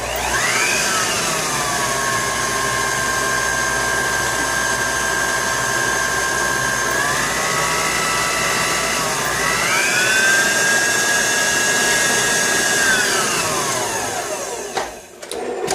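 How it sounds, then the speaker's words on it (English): An electric hand mixer beats vanilla cupcake batter in a bowl, with a loud continuous whine that drops and rises in pitch as the speed changes, close and with no talking. "Now I'm just going to mix again."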